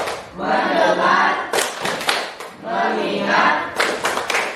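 Group of people clapping in unison for a "tepuk fokus" clap routine, with bursts of rhythmic claps between stretches of chanting voices in a room.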